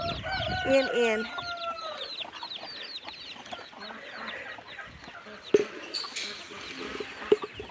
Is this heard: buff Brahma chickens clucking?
yes